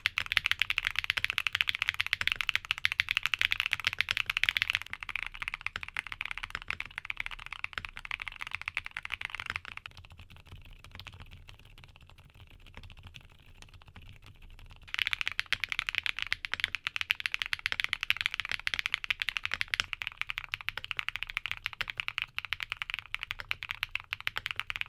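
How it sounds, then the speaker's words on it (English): Mechanical keyboard switches are typed on a NUS65 board in steady, dense runs of clacks, with a quieter stretch in the middle before the brisk typing resumes. "here are back-to-back sound tests for the switches we talked about today"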